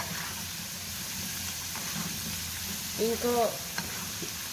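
Potato fries for patatas bravas bubble and sizzle in hot oil with a steady close frying hiss while being stirred, and a brief voice speaks over it partway through.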